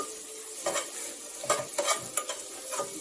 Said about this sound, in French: Je commence d'abord par faire mariner les oignons.